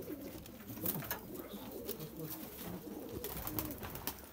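Pigeons in a loft in Bakshi Nagar, Jammu and Kashmir, cooing in soft, repeated throaty rolls close by, several birds overlapping in a steady low murmur with occasional wing flutters.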